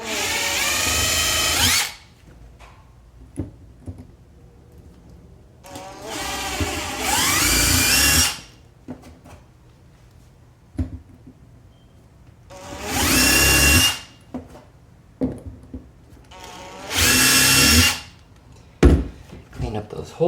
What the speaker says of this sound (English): we'll go ahead and drill all the way through